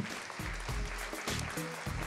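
A short burst of clapping from the audience salutes the Digne Vitalité 04 sports club at the 2018 Nuit des Sportifs awards night in Digne-les-Bains, steady and moderately loud, with a faint amplified voice or music tones underneath.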